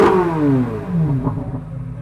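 A C8 Corvette Z06 engine revs loudly with its exhaust open at Laguna Seca Raceway, pitch sweeping down then climbing again, rough and throaty up close.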